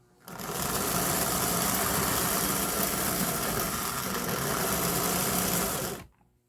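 A Dreyfuss Hudson model locomotive's electric motor runs with a steady, buzzing whir close by, starting abruptly and holding at an even level for about six seconds before cutting off.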